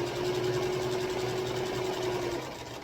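Black-threaded sewing machine stitching steadily around a fabric corner, a close, even mechanical whir that runs continuously, then eases off near the end.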